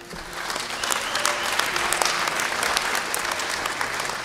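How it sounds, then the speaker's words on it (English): A church audience claps at a Christmas concert, a dense, steady wash of applause that holds at an even level throughout with no voices on top. "a round of applause."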